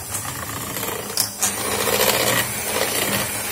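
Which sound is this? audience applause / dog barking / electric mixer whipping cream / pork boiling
electric mixer whipping cream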